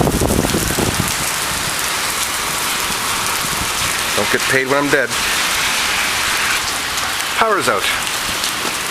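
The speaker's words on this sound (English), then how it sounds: "So I'm going to stay out of that lightning and that rain." Heavy rain pours steadily onto surfaces during a lightning storm, a constant loud hiss, while someone speaks a couple of short phrases over it.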